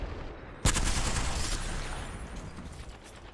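A sharp gunshot cracks suddenly in the Apex Legends video game, followed by a dense rattling wash of fire and clatter that slowly fades.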